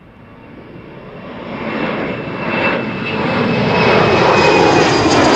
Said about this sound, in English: Next up, KLM Flight 1799 going to the hometown of JD, Düsseldorf, Embraer 190